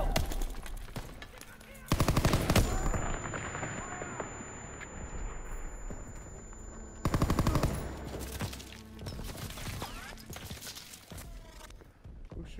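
World War II D-Day battle gunfire in Call of Duty WW2, loud bursts of automatic weapon fire that come in two heavy volleys separated by quieter rumbling combat ambience with scattered distant shots.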